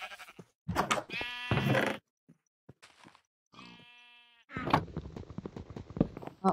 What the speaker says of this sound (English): Are you a sheep? You look more like a goat.